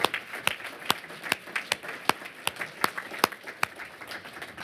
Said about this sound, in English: one more round of applause for Azar,